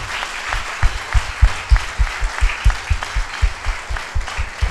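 At a church wedding, the congregation claps in time with strong, evenly spaced beats, loud and close, over a soft background wash of crowd noise.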